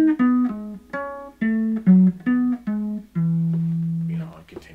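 Diatonic triads played descending down a scale in a jazz practice setting, about eight clear chords stepping down in an even rhythm, with the last one held longer before a short noisy tail.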